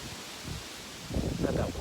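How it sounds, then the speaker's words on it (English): Gusty wind buffeting outdoors during a small game hunt, rustling and rumbling against the microphone, growing stronger toward the end. "It's so windy out."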